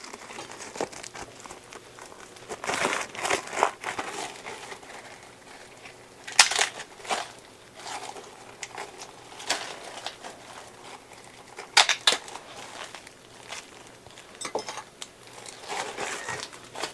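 A plastic bag of pasta-mix seasonings is crinkled and handled close by, giving irregular crackling bursts and soft rustles with brief sharper crunches, no talking.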